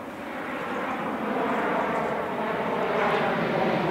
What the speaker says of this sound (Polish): czasami leci samolot